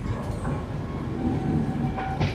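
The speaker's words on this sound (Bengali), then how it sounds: "যাত্রা শুরু করলো 13149 up Sealdah new Alipurduar Kanchankanya express." The 13149 Up Sealdah–New Alipurduar Kanchankanya Express runs on rails just after departing Sealdah, heard from on board as a steady loud rumble with rhythmic wheel clatter and faint squeals.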